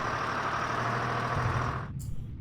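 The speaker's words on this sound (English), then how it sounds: "That's why they make those sounds, because they have a lot of trucks with them." Truck engines in the WDS Panzer Campaigns war game give a steady, moderately loud rumbling drone that cuts off abruptly near the end, leaving a brief faint tail.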